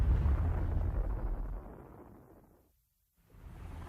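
A hydrogen bomb explosion gives a loud, low rumbling roar that fades away to near silence over about three seconds, then a low rumble swells back.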